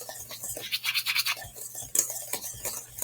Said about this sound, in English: I want it very well mixed so there's no chunks of anything in there. Get it nice and whisked up.